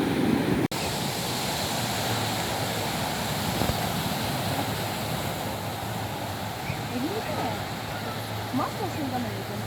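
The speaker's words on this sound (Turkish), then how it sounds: "tek sıkıntı denizin çok dalgalı oluşu" Continuous rushing wash of rough, choppy sea surf and wind at a cove, steady and loud throughout, with faint voices underneath.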